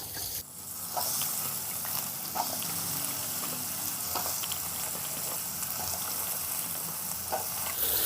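Potato pieces frying in a pan with ginger garlic paste and turmeric for a fenugreek and potato dish, a steady close sizzle after an initial burst as they hit the oil, with faint stirring clicks.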